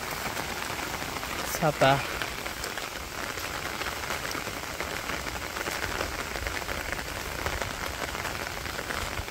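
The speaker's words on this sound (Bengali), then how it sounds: "টিপ টিপ টিপ টিপ করে বৃষ্টি পড়ে, খুব ভালো লাগে" Steady rain patters across a Bangladeshi village countryside in a dense, even hiss, with a faint voice briefly heard early on.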